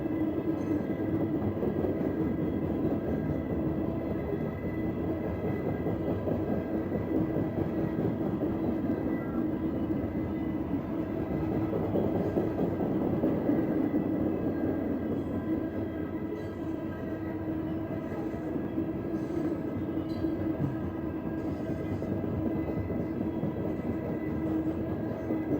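A train rumbles past continuously, a steady loud mechanical roar of rolling wagons with faint wheel clatter, no voices.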